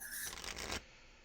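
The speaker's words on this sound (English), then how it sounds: "I'll shuffle this out." A deck of Star Trek game cards being shuffled in one quick riffle lasting under a second, close and fairly quiet, followed by near silence.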